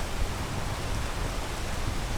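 Steady, dense rain hisses in the game PEAK, a continuous wash of falling water with no break and no voices over it.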